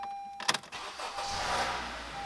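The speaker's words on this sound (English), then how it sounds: "we're going to go ahead and start the car." A 2013 Honda Accord engine starting just after a transmission fluid service: a short cranking burst followed by the engine catching and settling into a steady idle, alone and moderately close.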